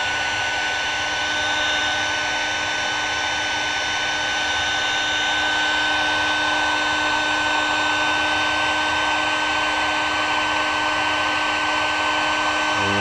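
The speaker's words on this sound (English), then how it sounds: "I use a gun, a heat gun, to heat my heat shrink up instead of a lighter" Heat gun warming heat shrink tubing on a drone battery balance cable, a steady close blowing roar with a constant whine that runs unbroken throughout.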